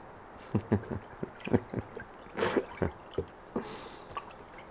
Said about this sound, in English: we are going to pour this brine all the way over there